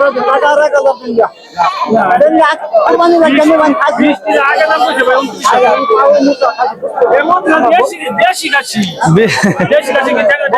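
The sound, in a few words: goats bleating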